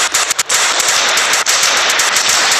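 Rapid bursts of gunfire crackle in a Roblox World War 1 game: loud, sharp shots and automatic fire, with a few brief gaps between bursts.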